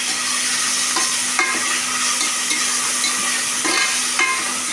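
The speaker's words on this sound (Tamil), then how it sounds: "இஞ்சி பூண்டு பேஸ்ட்டு நல்லா வதங்கணும்." Ginger garlic paste sautéing in a pan for tomato rice, a steady loud crackling sizzle with occasional soft scrapes of a spoon stirring, close and continuous.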